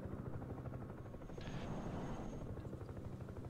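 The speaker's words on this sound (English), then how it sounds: "Helicopter." A helicopter in the Broken Arrow video game gives a steady, dense low rotor thrum that runs through the whole few seconds at an even level, with a faint higher whine partway through.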